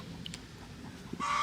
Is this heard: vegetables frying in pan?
no